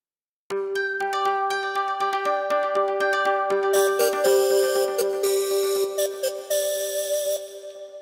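A synthesizer arpeggio cycles rapidly through repeating notes, bright and steady, with a buzzier layer joining partway through and dropping out later.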